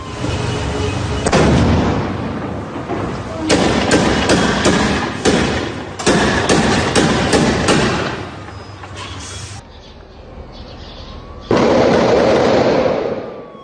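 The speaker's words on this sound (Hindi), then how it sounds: "इजरायली फोर्स हमास समर्थकों में फायरिंग और उसकी तस्वीर आपके सामने, आमने सामने की कॉम्बैट, आमने सामने की जंग में जबरदस्त फायरिंग" Heavy gunfire erupts during armed clashes between Israeli forces and Hamas supporters in North Jerusalem, heard as loud, harsh, distorted sustained bursts broken by brief quieter gaps.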